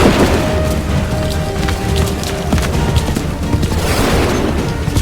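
Musket volley from soldiers in Assassin's Creed III, heard as a dense, continuous crackle of gunfire with booming low end and scattered sharp reports throughout, loud and close, with no talk.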